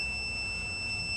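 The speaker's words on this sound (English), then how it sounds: "So there's the beeping." Steady high-pitched electronic beep from a timing light checking ignition timing on a Honda CL175 race motorcycle, a continuous tone held over faint background hiss, with no talking.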